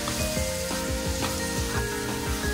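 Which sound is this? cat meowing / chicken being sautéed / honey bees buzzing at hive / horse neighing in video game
chicken being sautéed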